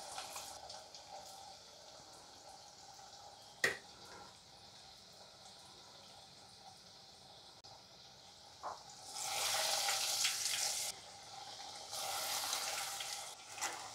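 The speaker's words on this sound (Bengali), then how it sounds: "তেলটা আমার গরম হয়ে গেছে, দিয়ে দিলাম।" Breaded garlic potato cutlets frying in hot oil over lowered heat, a soft steady sizzle with a sharp tap near the start, then louder bursts of hissing crackle in the second half.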